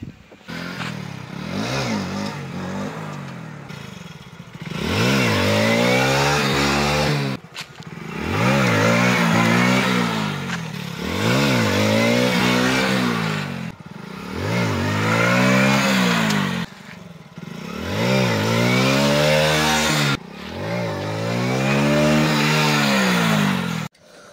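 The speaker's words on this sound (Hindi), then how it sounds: "तो फिर थोड़ा व्हीली वली मार लेते हैं एक बार" Hero Splendor motorcycle engine revving hard during wheelie practice, five or six loud rising and falling rev cycles with short dips between, close up with no talk.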